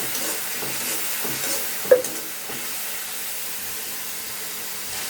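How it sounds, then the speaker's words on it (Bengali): Spices frying with cumin powder in a pan before fish head goes in, a soft continuous sizzle with light stirring and one brief sharp clink, close and fairly quiet. "সামান্য জিরা গুঁড়া কষিয়ে নিই ভালো"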